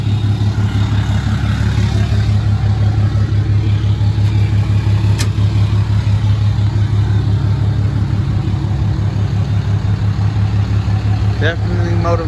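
Hot shot truck engine droning steadily while driving on the road, a loud low hum that holds constant throughout with a brief sharp click partway and a faint rattle near the end.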